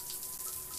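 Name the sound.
shower water running in indie horror video game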